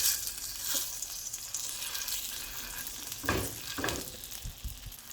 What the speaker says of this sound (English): So patty's sizzling on the other side that I just flipped.